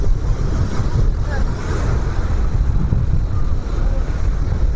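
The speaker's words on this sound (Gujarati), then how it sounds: "કેવો દરિયો ગાજે" Sea waves roar on the shore near Khimeshwar Mahadev in a steady, loud, continuous wash of surf, with heavy wind buffeting the microphone throughout.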